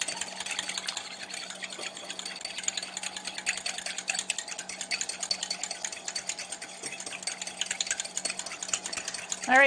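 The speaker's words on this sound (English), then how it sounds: "And my handy dandy little whisk." A small whisk beating cake batter for a love cake in a bowl, giving a steady, fast rhythmic scraping and clicking that runs continuously throughout at moderate loudness.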